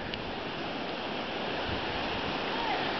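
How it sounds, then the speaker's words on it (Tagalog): Floodwater from Typhoon Labuyo in Kasibu, Nueva Vizcaya rushes in a steady, loud, broadband roar that stays constant throughout with no clear pauses. "Ang tubig ho ay napakarami."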